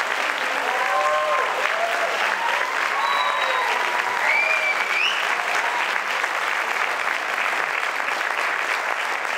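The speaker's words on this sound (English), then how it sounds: "so we can give you a round of applause?" An audience at a startup camp event in Portland claps for volunteer mentors, a sustained, even round of applause from a crowd with a few faint voices and whoops mixed in.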